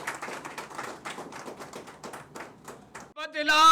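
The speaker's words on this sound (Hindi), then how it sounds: "मैं चाहता हूं जोरदार तालियों से अभिनंदन करें।" An audience at an open-air Hindi poetry gathering claps to welcome a guest. The scattered, fairly faint applause runs for about three seconds, then a sustained tonal sound comes in loudly at the end.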